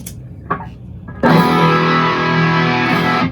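A couple of faint plucked notes, then a loud, sustained chord on an electric guitar heavily distorted through a Black Rat pedal, a ProCo Rat clone, rings out for about two seconds before cutting off.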